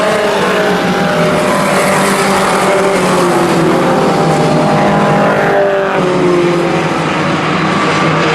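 Race cars roar around an oval track in a dense, loud, continuous engine drone, with several cars blending together and pitch shifting slightly as they pass, and no voices heard.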